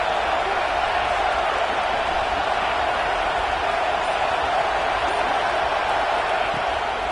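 A football stadium crowd roars steadily before a big third down, a dense, loud, continuous wash of cheering and noise with no breaks.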